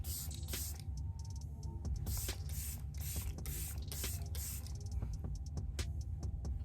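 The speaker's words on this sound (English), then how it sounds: "I like the way it's sprayed out." A makeup setting spray, a more mattifying formula, is misted onto the face in a run of short, close hissing bursts over steady background noise.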